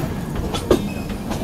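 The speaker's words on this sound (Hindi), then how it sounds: "ये ट्रैक पूरा चेंज कर रही है गाड़ी अपनी" Passenger express train in 2nd AC switching tracks, wheels rattling over the rail joints and points in a steady low rumble with a few sharper clacks, close and continuous, with no talking.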